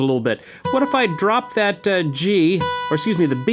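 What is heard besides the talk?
None of the usual background noises is heard.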